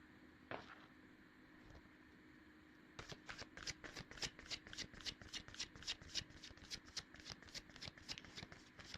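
Tarot cards being shuffled by hand, a rapid run of crisp riffling flicks after a couple of soft handling taps, close and fairly quiet with no talking.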